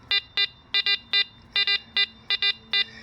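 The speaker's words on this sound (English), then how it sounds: "usually that double beep means it is a pull tab" A Garrett APEX metal detector gives a series of short, sharp electronic beeps, mostly in quick doubled pairs repeated about a dozen times over a faint background hum, as it responds to an aluminum pull tab.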